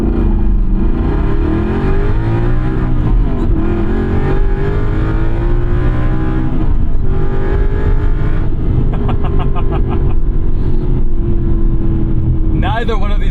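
Naturally aspirated V8 car, either a 2011 BMW M3 E90 or a 2009 Aston Martin V8 Vantage, pulls hard in a straight line, its engine note climbing steadily through the revs, then a gearshift, with wind noise and faint talk mixed in.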